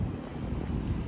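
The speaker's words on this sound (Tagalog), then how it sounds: "Sarap ng hangin." Wind buffets the microphone with low, uneven rumbling gusts, steady throughout, outdoors in Kaohsiung, Taiwan.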